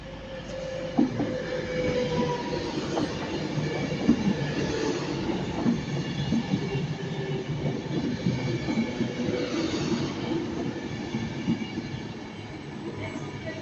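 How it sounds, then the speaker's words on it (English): An Avanti West Coast passenger train arrives at Stockport station heading for Manchester Piccadilly, a steady rolling rumble of wheels with rhythmic rail clicks and occasional faint squeals, the heavy sound lasting throughout with no talk. "arriving now is the 12:36 Avanti West Coast service to Manchester Piccadilly"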